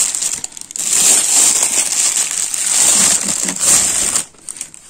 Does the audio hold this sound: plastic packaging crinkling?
yes